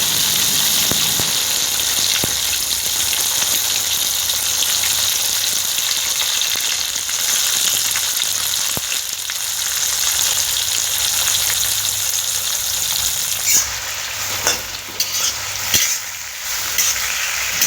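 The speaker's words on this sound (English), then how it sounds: "mom added cumin seeds in the hot mustard oil, and then she added the tomatoes and onions" Cumin seeds, tomatoes and onions fry in hot mustard oil with a steady, loud, close sizzle, a dense crackling hiss that runs throughout with occasional stirring scrapes near the end.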